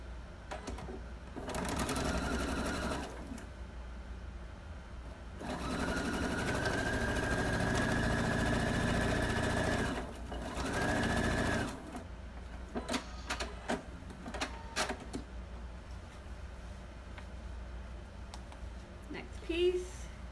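A sewing machine stitches a quarter-inch quilt seam in steady whirring bursts of a few seconds each, pausing between runs while fabric is handled with soft clicks and rustles.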